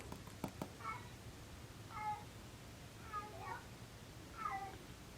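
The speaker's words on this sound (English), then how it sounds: "That is my cat begging for more food." A pet cat meows four times at even intervals, short pleading calls begging for more food, fairly close over a low steady background hum.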